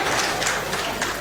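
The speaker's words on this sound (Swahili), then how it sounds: "wapige makofi." Audience applause at a fundraising event for Al-Fatah Islamic Institute: a short, steady wash of clapping from a crowd, moderately loud and continuous throughout.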